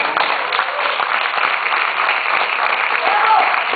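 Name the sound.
audience applause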